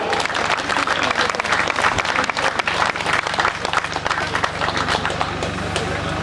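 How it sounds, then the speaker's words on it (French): Crowd applause at a cycling race podium ceremony in Brest, dense continuous clapping from a fairly close audience, steady and loud across the whole stretch. "Applaudissements pour Pierre Demey, s'il vous plaît."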